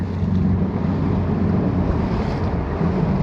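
Gusty wind on Lake Guntersville from a stopped boat on a cloudy day, a dense, constant roar buffeting the microphone, with water sloshing underneath and no voices.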